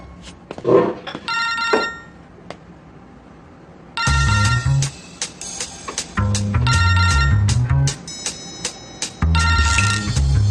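A telephone rings in a French-language TV series, loud repeated ring bursts in a steady rhythm after a few seconds of faint, scattered sounds.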